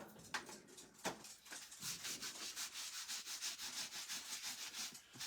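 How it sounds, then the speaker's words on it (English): A cloth rubs briskly over an old book's surface, buffing on Rub 'n Buff with quick repeated strokes, close and fairly loud, with a few sharper scuffs near the start. "Okay, then we're gonna buff that really quick."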